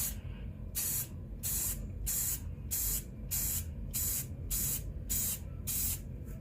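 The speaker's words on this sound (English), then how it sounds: "Okay, so that was 10 sprays." Colorant is sprayed into epoxy resin in ten short, even bursts of hissing spray at a steady rhythm, close by and with no talking.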